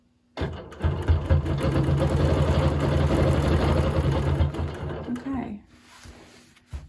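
A sewing machine free motion quilting a pillow runs in one steady, close, continuous hum of rapid stitching for several seconds, then stops abruptly, leaving quiet room tone.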